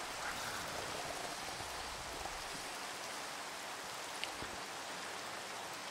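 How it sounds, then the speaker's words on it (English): Steady, dense rain in Minecraft hissing continuously across the whole stretch, a broad even wash of falling drops with no voices. "But it's still raining."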